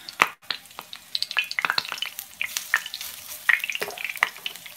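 Croquettes spooned into a hot frying pan, each scoop bringing a short burst of sizzling over a soft background crackle, close and moderately loud.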